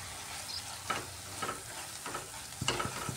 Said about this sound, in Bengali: এবার পালং শাক আর সব মশলা এইভাবে কষিয়ে নিতে হবে শুকনা শুকনা করে।